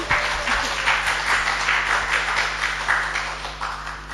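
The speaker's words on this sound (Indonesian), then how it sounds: "kita berikan tepuk tangan dulu Bapak Ibu" At a birthday thanksgiving and new-ministry celebration, an audience applauds Bu Ana with a steady, moderately loud clatter of many hands that swells and fades slightly over a few seconds, heard alone with no one speaking.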